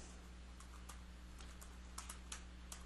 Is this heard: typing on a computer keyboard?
yes